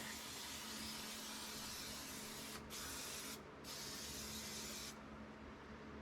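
Rust-proofing fog sprayed under a Lexus GX460 during a suspension install, a steady close hiss running continuously with a few brief pauses between bursts.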